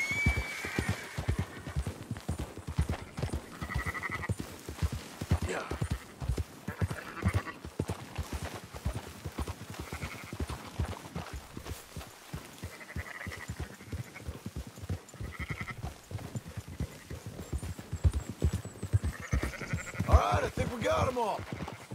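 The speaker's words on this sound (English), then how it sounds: "Marston, why don't you leave the sheep to me?" Horse hooves clopping while sheep bleat repeatedly during a herding ride in Red Dead Redemption 2, a busy, continuous stream of animal sounds with speech coming and going over it.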